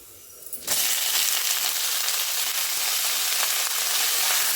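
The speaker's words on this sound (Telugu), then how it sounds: "ముందుగా కడిగి పెట్టుకున్న చిక్కుడుకాయ ముక్కల్ని అందులో వేసి బాగా వేగనివ్వాలండి" Washed flat bean pieces dropped into a hot tempering of spices and curry leaves: a sudden burst of loud sizzling that settles into steady, continuous frying hiss.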